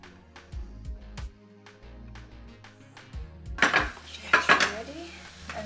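Egg fried rice is stirred in a pan, with a series of metallic clinks and taps of a utensil against the pan, then a louder burst of scraping and tossing near the end.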